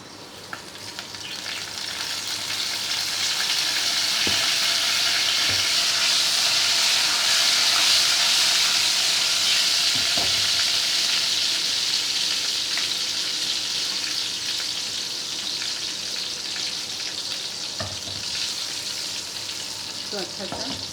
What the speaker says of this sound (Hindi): अब जो तेल बचा है इसमें हम बघार लगाएंगे।